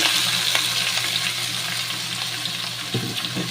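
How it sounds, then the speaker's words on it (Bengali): Potatoes and onions frying in a pan as boiled cabbage goes in, a dense continuous sizzle with light stirring and a couple of thuds near the end. "আলু পেঁয়াজ কলি ভাজা হচ্ছে বাঁধাকপিটাকে সিদ্ধ করে রেখেছি এবার আমি বাঁধাকপিটাকে দিয়ে দিলাম"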